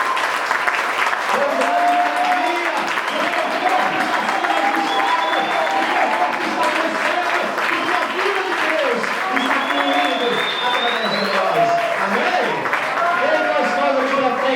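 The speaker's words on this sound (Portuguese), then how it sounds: "Vocês podem aplaudir ao Senhor pela sua coisa." A church congregation applauds at length in a full sanctuary, a loud, continuous roar of clapping with voices mixed through it.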